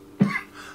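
A single sharp cough bursts out at close range, a short rough throaty blast that fades quickly into quiet.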